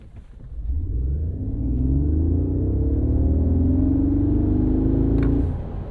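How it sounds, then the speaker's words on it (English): A 2025 Mercedes G 580 launching from a standstill off brake torque, its drive note swelling into a loud, steadily rising tone over about five seconds of hard acceleration before easing off. "you are able to brake torque it and get it off the line to 60 in under 5 seconds"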